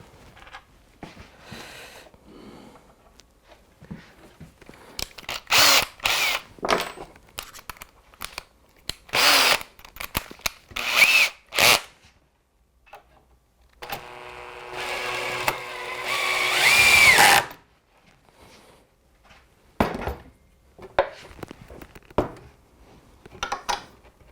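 A power drill drives screws into a wooden batten on a model railway baseboard. Several short bursts of high whirring come in uneven bursts, each a second or two, with one longer straining run and quiet handling noises in between.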